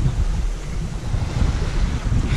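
Sea waves and strong wind surround a sailboat crossing the Bay of Biscay, with a loud, constant roar of wind buffeting the microphone over the churning sea.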